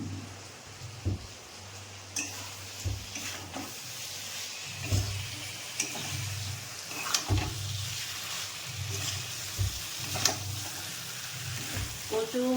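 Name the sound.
hot water added to frying chicken with taro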